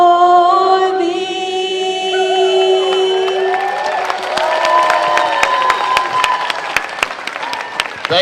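A crowd at the 2018 Canada Day opening ceremonies in Coquitlam bursts into cheering, whoops and sustained applause as a sung anthem's final note fades, the clapping growing dense and lively.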